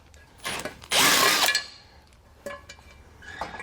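Bolts being removed from a car base plate beam during installation on a 2017 Buick, with a power tool burst near 1 second and a few scattered metallic clanks and clicks afterward, close and fairly loud, no talk.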